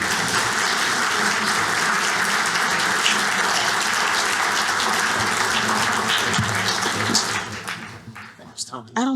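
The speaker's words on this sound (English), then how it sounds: "if you wouldn't mind just giving them an applause" Audience applause at an OLLI at WMU lecture event, a steady dense wash of clapping lasting several seconds before thinning out and fading near the end.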